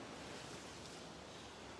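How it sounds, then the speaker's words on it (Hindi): Sea waves rolling at Goa in the evening, a steady soft wash of surf that stays faint and even throughout, with no voices. "दूसरी साइड में समुद्र के अंदर बहती हुई लहरें"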